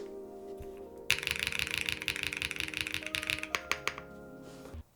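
Typing on a Womier SK71 Pro mechanical keyboard with a foamy sound: a rapid, steady run of soft keystrokes, close and clear over a background tone, slowing to a few scattered clicks near the end.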